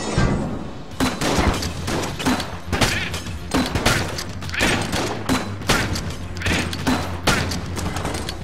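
Repeated gunshots from a gun in the video game Enter the Gungeon, a dense run of sharp blasts at steady, fairly quick intervals, loud and close with little pause between them.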